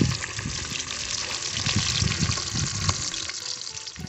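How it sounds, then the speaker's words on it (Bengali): Fish without scales, lightly coated in mustard oil, frying and spattering in a hot pan for a fish kalia, with a dense continuous crackle and pops throughout, steady and close. "আঁশ ছাড়া মাছ তো হালকা সরষের তেল মাখিয়ে কম ছিটবে, তাও মোটামুটি ভালোই ছিটছে"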